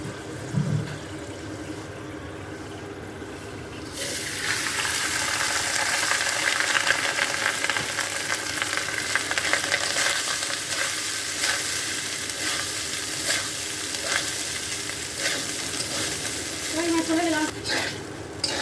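Whole garam masala (bay leaf, cloves, cinnamon and cardamom) fries in a pan as rice goes in, a quieter crackle jumping to a loud, steady sizzle with stirring scrapes throughout.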